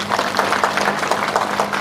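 An audience at a prayer-hall gathering applauds, giving a dense, loud, continuous patter of many hands clapping close by, without talk.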